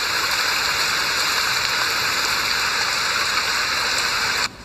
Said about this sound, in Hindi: तभी भारी बारिश शुरू हो जाती है